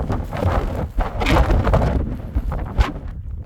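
Strong, gusting wind buffets the microphone on a cold December mountain summit, a steady loud roar with surging peaks and no voices.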